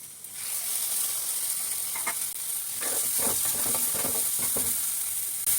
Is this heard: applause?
no